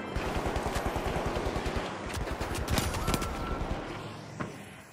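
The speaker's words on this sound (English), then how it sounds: "Fucking turrets, man." Rapid automatic turret gunfire in the video game The Finals, a dense stream of close, loud shots in quick bursts with a few sharper cracks over roughly five seconds.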